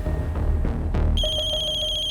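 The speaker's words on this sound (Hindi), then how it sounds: "नल्ले का नाम लिया और उसका फोन भी हाजिर है" A mobile phone rings with a bright electronic ringtone that cuts in partway through, repeating in quick even pulses over a low indoor background hum.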